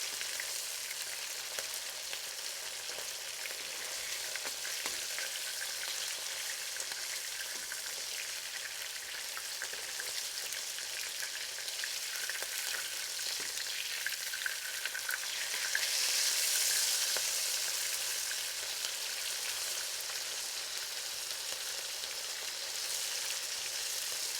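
Big chili shrimp fry in a hot pan, giving a steady, dense sizzle that carries on without a break for the whole stretch and swells slightly partway through, with no talking.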